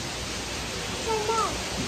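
Heavy rain pours down in a steady, dense broadband hiss, loud and continuous. A voice talks faintly over it for a moment.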